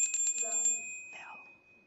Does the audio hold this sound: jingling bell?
yes